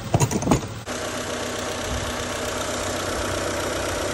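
A 2003 Honda Civic engine, after an engine swap, idles with a steady, even rumble after a few brief knocks and clatters at the start.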